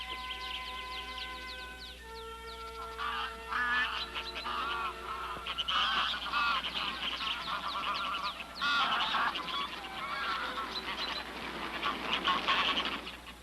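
A flock of young geese honking continuously, many overlapping calls at moderate distance, busy and steady throughout with a soft background hum.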